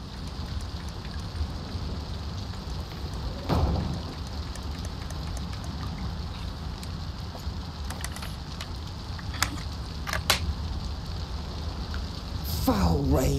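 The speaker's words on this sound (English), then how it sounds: "Foul rain." Steady rain in the video game A Plague Tale: Requiem hisses evenly throughout, with occasional sharp clicks and a brief rising tone near the end.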